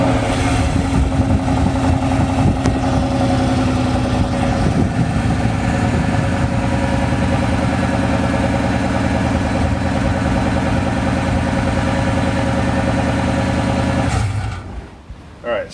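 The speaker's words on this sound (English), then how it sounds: "exhaust sounds stock" A 2002 Toyota Tundra with its stock exhaust idles in a steady, loud, low rumble that holds for about fourteen seconds and then cuts off abruptly.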